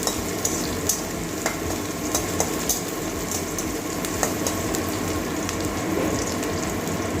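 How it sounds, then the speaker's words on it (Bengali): Chopped onions and green chilies fry in a pan for pasta, a steady close crackling sizzle with scattered scrapes and clicks of stirring throughout. "পেঁয়াজটা হালকা ভেজে নেব।"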